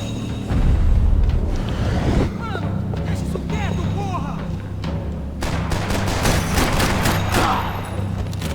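Gunfire in the video game Max Payne 3, with rapid bursts of shots and booms layered over a game soundtrack, while someone talks over it.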